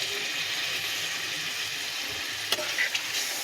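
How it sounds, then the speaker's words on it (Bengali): Turmeric water hitting hot oil in a fish and potato curry, a steady loud sizzle throughout with a couple of brief clinks near the end, close up and alone. "হলুদ গোলা জল একটু দিয়ে দেবো"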